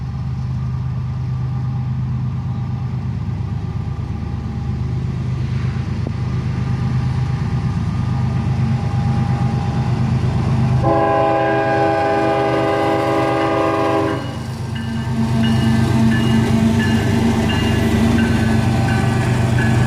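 A CSX northbound freight manifest led by GE ES44ACH and ES44DC locomotives rumbles steadily as it approaches and passes, with a loud horn blast partway through over continuous low engine and wheel noise.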